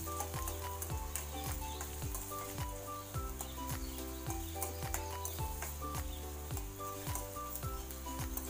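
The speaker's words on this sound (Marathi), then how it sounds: "त्यामध्ये आपण चिरलेला एक मीडियम साईज कांदा टाकावे व त्याला फ्राय करून घ्यावे." Chopped medium-sized onion frying in a kadhai for pomfret curry, a steady close sizzle running under rhythmic, repeating background music.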